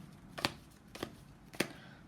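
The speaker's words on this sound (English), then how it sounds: "Actually, I want one more shuffle." Tarot cards shuffled by hand in three quick crisp riffles, close and distinct against a quiet room.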